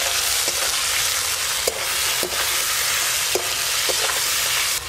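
Ginger, garlic, onion, tomato and salt sizzle loudly in hot oil for a rui fish curry masala, a steady close hiss broken by occasional stirring scrapes, with no talking.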